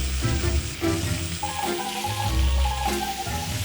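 Meat and mushroom cutlets frying in a pan, a steady close sizzle with soft crackles and faint stirring noises throughout.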